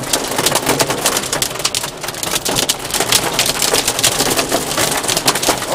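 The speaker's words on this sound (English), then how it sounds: "It's hailing on the car right now." Dense, rapid pattering of hailstones drumming on a car's roof, loud and continuous with no letup and no talking.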